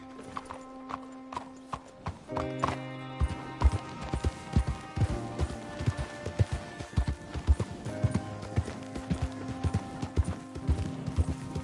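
Horse hooves clip-clop in a steady, quick rhythm in the video game Red Dead Redemption 2, building into a continuous gallop that persists throughout, fairly close.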